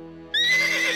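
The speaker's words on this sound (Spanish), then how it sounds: "¡Es él! ¡Es el caballo!" A sharp, high horse whinny erupts suddenly after a moment of low hum, ringing out close and loud.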